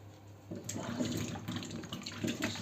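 Running water splashes steadily from a kitchen tap as a sponge is rinsed under it, a continuous close wash with small shifts in the flow.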